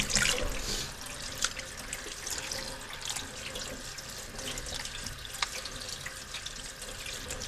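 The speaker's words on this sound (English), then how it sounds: "So I'm just going to run it under some cold water until it runs" Cold tap water runs steadily over butter being rinsed in a sink, a continuous splashing hiss with occasional drips and small knocks, fairly quiet and close.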